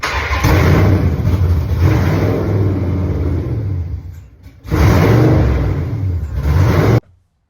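A Dodge Hellcat engine revs loudly nearby, a deep rumbling drone that dips around four seconds, surges back in a second burst of revving, then cuts off abruptly.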